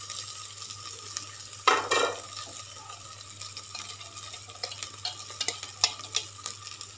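Browned masala for an egg curry fries quietly in a pan, with one brief stirring scrape early, then a soft continuous sizzle dotted with small pops and a low steady hum beneath.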